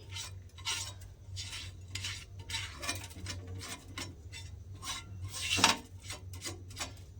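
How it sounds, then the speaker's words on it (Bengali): A metal spatula scrapes leftover bits of chhita ruti batter off a hot tawa griddle, a series of short rasping strokes in an uneven rhythm with one louder scrape near the end, close and alone over a low stove hum. "তাওয়ার এখানে যেগুলো সব লেগে আছে এক্সট্রাগুলো এগুলো আমি তুলে ফেলে দেবো"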